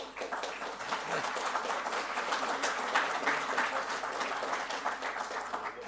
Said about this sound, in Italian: vi chiedo di fare un applauso a queste persone